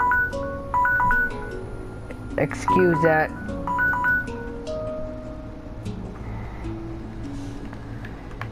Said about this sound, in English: That was my phone. It went off.